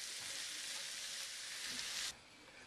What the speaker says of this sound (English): we're going to add 1 cup of shredded cabbage. And we'll just stir that through the vegetables